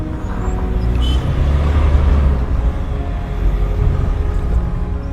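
A second-hand Mahindra Scorpio Classic engine idles loudly and up close, a steady low rumble with a slight throb that holds evenly throughout, no speech.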